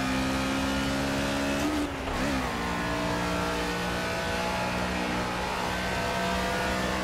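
Race car engine in Project CARS, a steady loud in-car drone with a brief dip and shift around a gear change, then sustained high revs.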